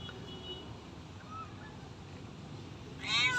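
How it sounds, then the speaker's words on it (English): A litter of six kittens, with a faint background hiss and then a clear, close meow near the end. "6 kittens all in all."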